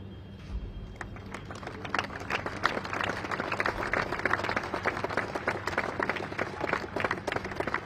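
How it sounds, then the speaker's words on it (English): Applause from a crowd after a naval central band's Beating Retreat display at Navy Week, dense steady clapping sustained throughout, fairly close and even in intensity. "That immaculate display of precision truly calls for a thunderous round of applause, ladies and gentlemen"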